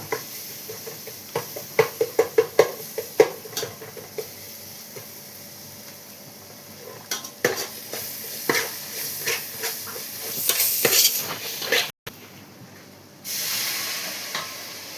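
Onions and green chillies being stirred in a hot pan for a sardine curry, with scraping and knocking strokes of a spoon in bursts over a soft sizzle that swells into a louder hiss near the end.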